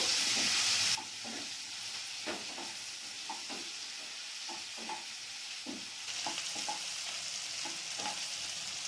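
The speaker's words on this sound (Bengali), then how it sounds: "ভেন্ডিগুলোকে আমি হালকা করে ভেজে নেবো এখানে।" Okra frying in butter in a pan, a steady sizzle with scattered stirring scrapes and taps, an initial loud hiss easing after the first second.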